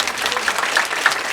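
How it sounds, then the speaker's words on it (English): Audience applause at an executive panel event, a short burst of steady clapping from a room of people at moderate loudness with no talk over it. "And I think we should just give him a round of applause."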